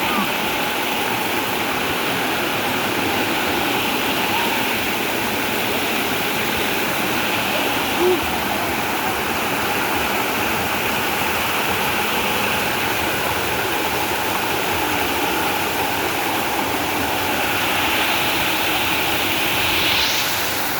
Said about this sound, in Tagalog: wala kang maririnig kundi yung agos ng tubig.